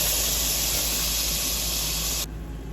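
Frozen shrimp hit a hot pan with a loud, steady broadband sizzle that runs unbroken for about two seconds, then drops sharply to a quieter, duller hiss.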